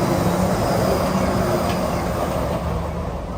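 Steady loud rumble and rolling roar of the Disneyland monorail passing close by, continuous throughout with no talk.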